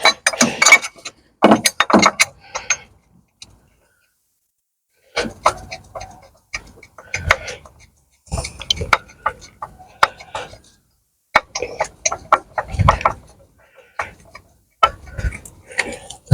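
Bolts being fitted by hand on a Vauxhall Corsa D 1.2 water pump, giving intermittent metallic ticks and clinks in short bursts separated by pauses, close and fairly clear.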